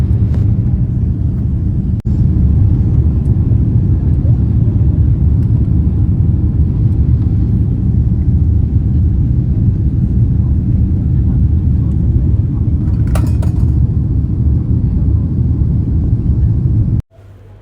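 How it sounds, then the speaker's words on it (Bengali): Steady, loud cabin roar of an airliner just after takeoff on a flight from Singapore to Bangkok, a continuous low rumble holding unchanged throughout before cutting off abruptly near the end. "এই জাস্ট ফ্লাইট টেক অফ করলো"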